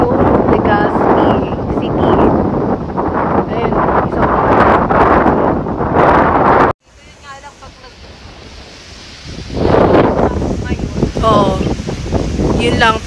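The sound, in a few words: wind blowing at a Legazpi highland viewpoint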